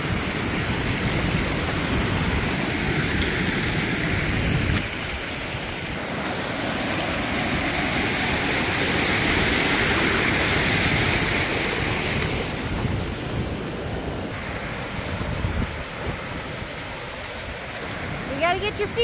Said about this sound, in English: With the water running down it. Plenty of water now.